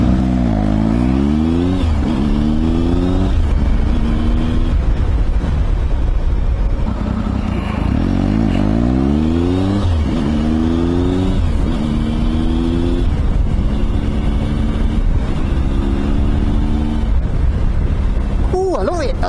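A Triumph Tiger 955i motorcycle engine, revived after three years abandoned, revs loudly and repeatedly, pitch sweeping up and falling back between steady idle stretches, close by, with excited voices over it.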